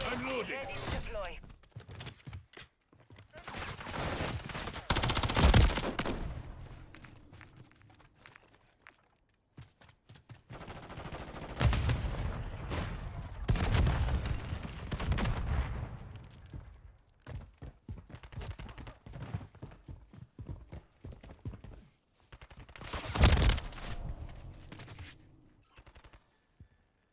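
Gunfire in the Call of Duty video game comes as several loud bursts of rapid shots and explosive cracks separated by quieter gaps, with voices calling out between the volleys.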